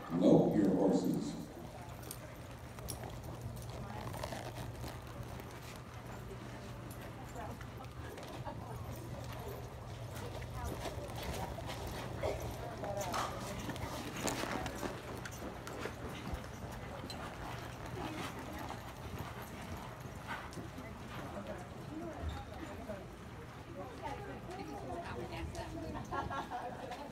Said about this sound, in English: Lope your horses.